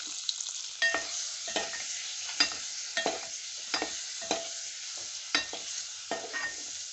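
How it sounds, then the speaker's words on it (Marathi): Eggs fry in a pan with chili powder, turmeric and salt, giving a bright, continuous sizzle punctuated by about a dozen crisp scraping strokes of a spatula, close up with no talking. "तिखट, हळद आणि चवीनुसार थोडंसं मीठ हे टाकून आपल्याला यावर अंडी फ्राय करून घ्यायची आहेत।"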